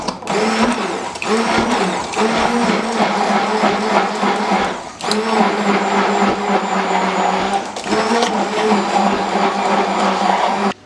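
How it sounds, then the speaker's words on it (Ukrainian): A blender whirs loudly and steadily through peanut cake batter after hot butter is added, a close continuous motor drone with brief dips in pitch and one short pause midway. "Тепер додаємо наше гаряче масло і ще раз пробиваємо."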